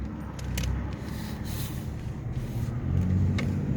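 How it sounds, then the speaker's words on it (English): Road traffic streams past on an open road, several cars rushing by in overlapping swells with tyre roar and a brief hiss of brakes, building louder toward the end. "And here comes a bunch of traffic."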